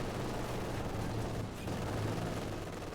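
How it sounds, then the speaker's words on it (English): Mortar fire rains down in a Company of Heroes 2 battle, a dense barrage of repeated thuds and blasts at steady, moderate loudness amid gunfire, with no clear talk on top. "a rain of mortar fire here from VonManteuffel and ElZocko against Dirtyfinisher"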